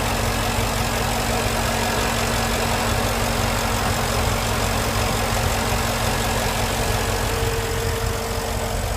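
Just after start-up, a 2014 Porsche Panamera GTS settles into a steady idle, its engine giving a constant, close, even rumble with a faint rhythmic pulse and no revving.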